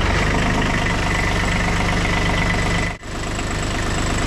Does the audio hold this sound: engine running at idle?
yes